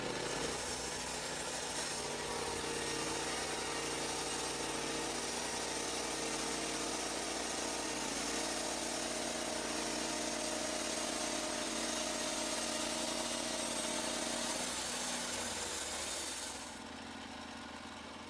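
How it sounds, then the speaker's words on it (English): A Lumber Pro HD36 portable sawmill engine runs steadily and loudly without pause, a dense continuous drone with mechanical sawing noise, easing slightly near the end. "Standard, the Lumber Pro mills logs 13 feet long."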